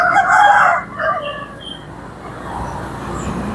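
Roosters crow loudly close by on a street lined with chicken sellers in Sungguminasa, Gowa, then give a second shorter crow before fading into steady traffic rumble.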